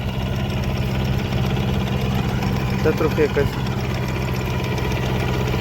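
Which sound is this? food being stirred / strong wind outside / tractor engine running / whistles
tractor engine running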